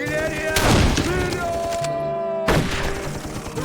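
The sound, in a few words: artillery fire in the video game Darkest of Days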